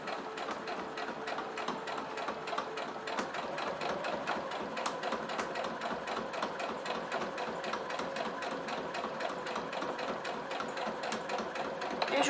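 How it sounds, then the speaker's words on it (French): A sewing machine topstitches along fabric with a lengthened 3.5 stitch, giving a steady, close, rapid mechanical whir and clatter that runs continuously without pause. "je fais ma surpiqûre tout le long de mon tissu"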